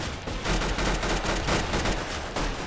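A gun fires in the Roblox video game, producing rapid, continuous bursts of gunfire that stay loud and dense for the whole stretch.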